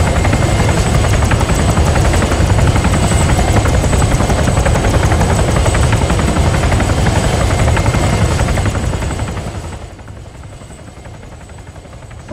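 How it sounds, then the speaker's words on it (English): A helicopter flies in the video game Arma 3 with the Exile mod, its steady, loud rotor and engine roar filling the scene before fading somewhat near the end. "I hear a chopper again."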